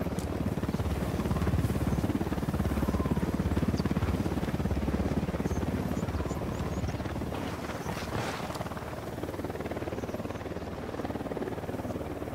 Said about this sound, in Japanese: ヘリが巡回してる。